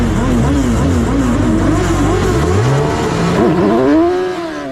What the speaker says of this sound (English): waiting for the lights to go on, and then out and we go racing